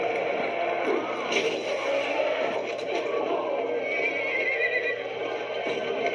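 A horse whinnies and hooves clip-clop against a constant, noisy background.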